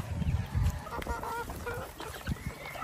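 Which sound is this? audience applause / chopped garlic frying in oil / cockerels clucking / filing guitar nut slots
cockerels clucking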